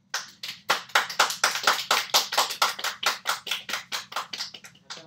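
A small group claps together at a communication training session, a burst of sharp, fairly quick claps close by that continues steadily for several seconds and tapers slightly at the end, with no talking over it.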